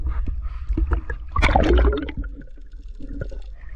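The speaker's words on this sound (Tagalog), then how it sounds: "Lakas ng alon dito" Strong sea waves wash and gurgle along a shore, with a louder surge breaking midway before the water settles back into softer sloshing and dribbling, fairly faint overall and no speech.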